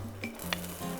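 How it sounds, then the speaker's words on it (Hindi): Garlic dropped into a hot pan sizzles in a short, steady hiss with a brief clink of a utensil partway through, close and alone. "ये लीजिए, ये मेरा गार्लिक गया सारा पैन में।"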